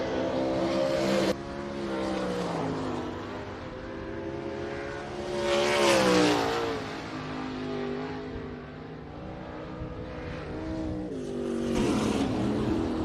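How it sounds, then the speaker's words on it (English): A sprint car runs past on a speedway during a ladies night race program, its engine roar swelling to a peak mid-pass and then fading, with steady harmonic engine tones and a second surge toward the end. "We'll wait for this sprint car to come on by."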